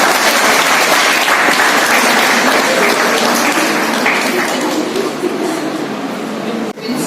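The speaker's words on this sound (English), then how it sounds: "A big round of applause for all the members of this department." Steady, loud applause from an audience at a university commerce department seminar, sustained for several seconds and dipping briefly near the end.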